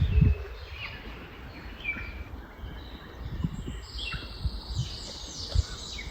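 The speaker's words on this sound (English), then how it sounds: "Baby bird in the bird nest." Baby bird chirping from a nest in a rainforest on an island, high thin chirps scattered through the clip over a steady outdoor background with some low rumble and handling noise.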